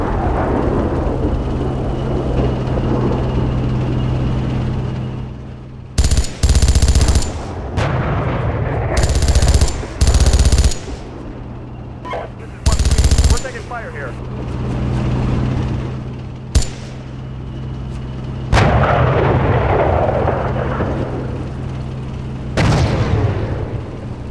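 Gunfire and artillery from a tank battle in the Steel Beasts Pro simulator: several loud, sharp booms in irregular bursts over a steady low engine rumble, with a few quieter distant shots between them.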